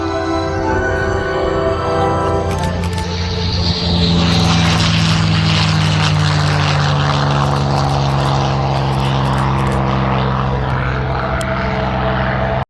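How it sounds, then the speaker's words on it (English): Loud, roaring Packard-built Merlin V12 engine of a P-51D Mustang at an airshow, a deep throbbing drone that swells as it passes close by, running continuously throughout. "Packard-built V12 Merlin engine, considered one of the greatest sounds in aviation."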